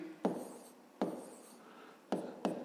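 Pen or pencil writing on paper for a fifth-grade maths exercise, heard close and quiet as four short scratchy strokes that fade after each, with gaps between them and no talking.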